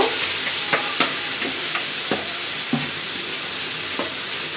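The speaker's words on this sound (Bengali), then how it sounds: "যে মাছটা মেরিনেট করে রাখছিলাম সেই মাছটা এই পেঁয়াজের উপরে দিয়ে দিব একদম মশলা সহ" Small pieces of spice-marinated fish fry on browned onions in oil, giving a steady close sizzle with occasional soft pops and crackles and no voices.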